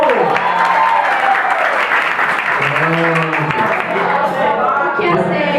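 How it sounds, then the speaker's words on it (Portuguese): Loud applause from a studio audience during an interactive talk show on sects, with voices and cheers over it, sustained throughout. "Palmas pro Genibaú!"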